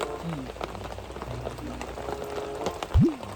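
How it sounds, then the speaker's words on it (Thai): Steady patter of rain falling around, with scattered drips and splashes, and a brief sliding squeak near the end. "ฝนตกเลย"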